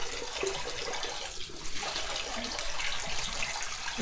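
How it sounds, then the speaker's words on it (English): Cold water splashed onto the face during a shave rinse, a continuous close running and splashing wash with faint gurgles and no talking. "Just rinse off with a bit of cold water to kind of seal those pores"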